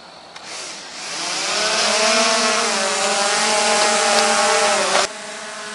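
DJI Mavic drone spinning up and lifting off, its rotors swelling into a loud, steady high-pitched buzz with rising whine, holding for several seconds close by before cutting off abruptly.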